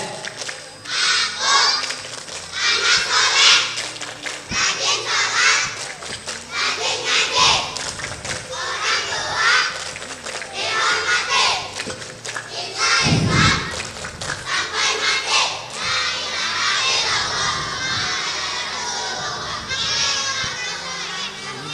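A group of children performs the "Tepuk anak soleh" clapping chant during an Islamic preaching session, loud and lively with rhythmic claps and shouted voices, while an adult speaks at times.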